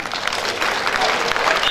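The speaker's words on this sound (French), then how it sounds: "Applaudissez pour les femmes." A seated audience at the Miss Artisan Togo 2023 ceremony claps steadily and densely for a short stretch, with the applause close and continuous throughout.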